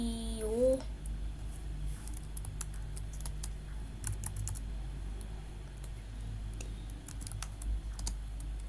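Clicking keystrokes on a computer keyboard while HTML code is typed, a steady run of light taps over a low room hum, close and moderately quiet.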